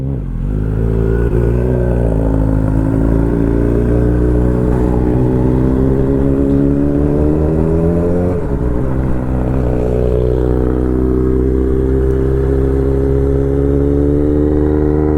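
A motorcycle engine on a cold morning runs loud and close with a steady throbbing idle and a couple of rising revs, holding throughout with no talk over it.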